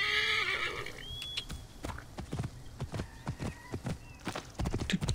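Horse in Assassin's Creed Origins gives a loud neigh, then its hooves clip-clop steadily at a walking pace, close and clear.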